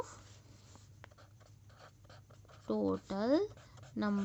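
Pen or pencil strokes write numbers on paper for a word problem in a maths lesson, a quiet scratchy rhythm of short strokes, with a voice talking near the end.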